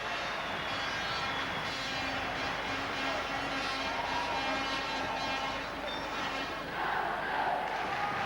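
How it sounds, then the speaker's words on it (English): A packed Wembley arena of just under 9,000 fans at the Nottingham Panthers vs Ayr Bruins ice hockey playoff final makes a loud, steady crowd roar that keeps going without a break. "It's the biggest crowd they've had at Wembley for these finals"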